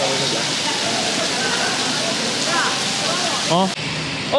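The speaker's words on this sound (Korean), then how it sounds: "아따 비 시원하게 오네" Heavy rain pours down steadily in a dense, close hiss that fills the whole scene. A voice speaks briefly over it before the sound cuts abruptly near the end.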